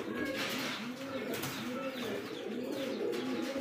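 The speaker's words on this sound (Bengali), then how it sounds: "একদম বিগ সাইজের ইয়াং একটা কবুতর" Pigeons coo in repeated soft, throaty phrases close by, a steady rolling rhythm over a dense background of faint chirps and room noise, with no talking.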